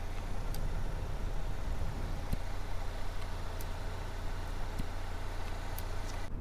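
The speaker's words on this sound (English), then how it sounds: "clip of me just turning the vents on and off" Air vents in a 2019 Volvo XC40 are switched on and off, a steady low fan hum inside the cabin punctuated by a few soft, isolated clicks.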